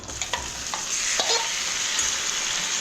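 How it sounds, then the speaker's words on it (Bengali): Onions and mutton fry in a pan with a steady, fairly loud sizzle, broken by a few sharp scraping clicks of stirring, close by with no voices. "যে পেঁয়াজটা আপনার ভাজা হয়ে গেল তখন আমি এই মাটনটা দিয়ে দেবো"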